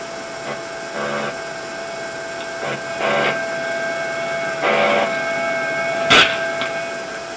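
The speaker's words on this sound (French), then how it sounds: "l'imprimante archive le message" A printer in the command equipment of the Pluton short-range ballistic missile system runs in short whirring bursts as it archives a message, over a constant mechanical hum, ending in one sharper hiss.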